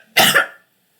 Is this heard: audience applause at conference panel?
no